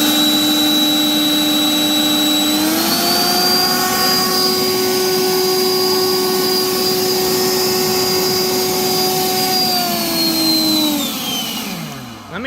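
A Dong Cheng 40-volt leaf blower runs on turbo with a loud, steady whine that rises in pitch as the boost engages, holds strongly, then spins down at the end, with no talking.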